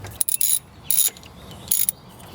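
A ratchet wrench tightens the tension pulley bolt on a 2001 Mercedes-Benz W210 E320 wagon, giving three quick bursts of close, sharp clicking with short pauses between.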